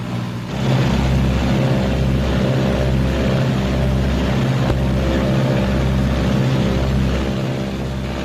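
Twin engines of a 1944 B-26 airplane run up together to about 1,800 RPM, a loud, steady droning roar with a throbbing low pulse that holds throughout.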